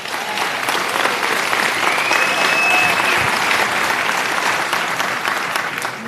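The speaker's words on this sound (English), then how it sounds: "Let's give him a round of applause." A town hall meeting audience applauds a young questioner with a full, continuous wash of clapping from a large room that stays level throughout.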